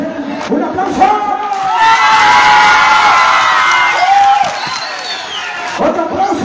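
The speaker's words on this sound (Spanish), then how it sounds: "A ver, ¡un aplauso!" Crowd at a September 16 village festival in Santa María Malacatepec cheering, whooping and applauding after a contest, loud and sustained with shouting voices layered over clapping.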